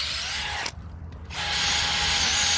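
A power drill with a short, sharp bit bores holes into a tree stump, whining loud and close, dropping out for a split second before grinding on steadily.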